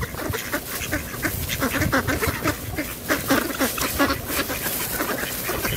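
A flock of ducks quacks loudly and continuously, many overlapping calls close by with no pause.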